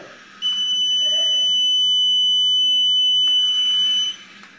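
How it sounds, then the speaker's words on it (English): A loud, piercing electronic buzzer on a metal-detecting robotic vehicle sounds steadily for several seconds at a single high pitch, then cuts off abruptly. "it sounds a buzzer as soon as it detects any metal underneath it"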